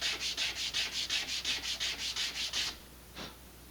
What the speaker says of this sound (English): I prefer to just use a piece of sandpaper here instead of using the block for this.